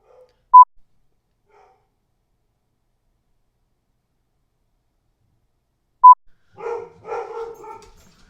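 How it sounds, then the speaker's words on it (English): A few dogs bark in quick bursts near the end, a short cluster of yaps following two isolated electronic beeps in otherwise quiet surroundings. "dogs barking, dogs still barking."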